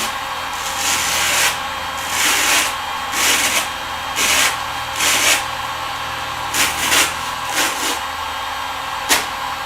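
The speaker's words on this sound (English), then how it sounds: "I'm going to split some of these guys in half. Got my big ceramic knife." A big ceramic knife splits wreath branches in half in repeated rasping, scraping strokes, each a second or so long with short gaps between, loud and close with no talking.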